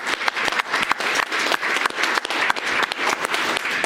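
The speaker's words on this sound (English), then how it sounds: "I'd like to give her a round of applause for it." A room full of people applauding during a hearing on September 11th litigation: dense, loud, continuous clapping with sharp individual claps standing out, sustained evenly throughout.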